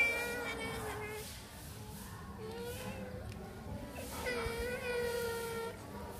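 A cat cries during an injection, giving several drawn-out, wavering meows close by, with quieter wails between them and faint human sounds in the background.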